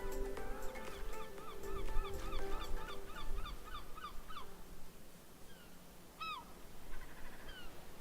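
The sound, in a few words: seagull calls in video game Paradise Beach Simulator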